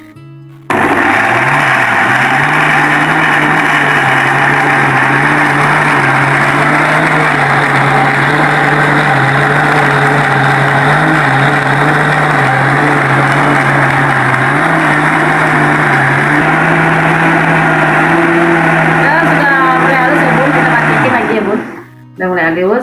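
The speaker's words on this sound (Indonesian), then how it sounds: "kelapa nanti kita giling halus ya bun sama bumbu-bumbu" A kitchen grinder or blender whirs loudly and steadily as it grinds coconut with spices into a fine paste for a Padang-style fish curry, running nonstop for about twenty seconds before cutting off near the end.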